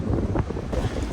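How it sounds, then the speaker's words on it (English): Strong wind at Taughannock Falls buffets the microphone with a continuous low rumbling roar and gusty fluctuations, no talking. "Windy as all hell."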